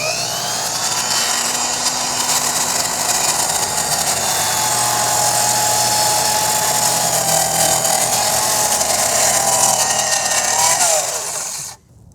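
A Makita 10-1/4 inch cordless circular saw cuts through wood with a loud, continuous high whine and grinding buzz. It runs close and steady for about eleven seconds before cutting off abruptly.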